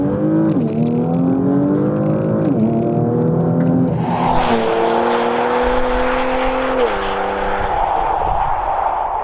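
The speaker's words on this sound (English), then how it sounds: "And just look at this transmission shift gears." The engine of a 2020 Porsche Macan GTS, 380 horsepower with all-wheel drive, revs up hard as the transmission shifts several times. Each gear change drops the pitch, then it settles into a loud, sustained roar.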